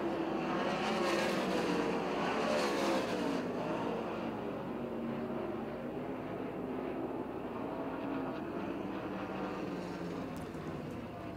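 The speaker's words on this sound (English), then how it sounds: "that completes the Weichert Livestock 410 Sprint Car Heat Races" 410 sprint cars roar around the Port Royal Speedway oval in a heat race, a dense, continuous engine howl that swells and fades as the pack passes, loud and unbroken throughout.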